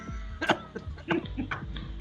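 A single ironic cough from a podcast co-host, a quick sharp burst standing alone, fairly close and clear, with a small throaty tail after it.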